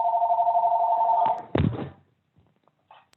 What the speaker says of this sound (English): I'm not sure where that ringing is coming from